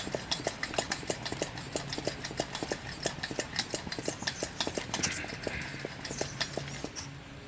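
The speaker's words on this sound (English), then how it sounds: "Pump it up, see if we have any gas flowing." A Coleman model 220 double-mantle lantern's fuel tank being pumped by hand, a steady rhythmic series of quick clicking strokes, close and moderately loud, continuing evenly throughout.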